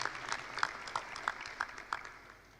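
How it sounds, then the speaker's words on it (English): Faint applause from a graduation ceremony crowd, a thin patter of claps with a few sharper hits spaced through it, fading over about two and a half seconds. "Let's give her a round of applause."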